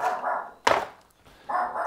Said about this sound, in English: excuse me, the dog's barking.